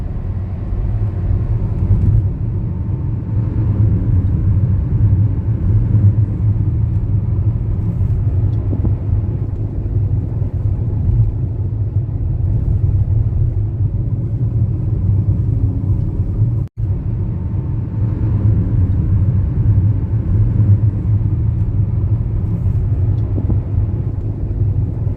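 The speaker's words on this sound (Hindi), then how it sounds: "कार के शीशे बंद और एसी ऑन रहने पर देखिए कितनी नॉइज़ आती है।" Cabin road noise inside a Hyundai Aura cruising on a highway at 100 km/h with the windows closed and the AC running: a steady, dense low rumble that holds for the whole stretch, broken only by one brief dropout.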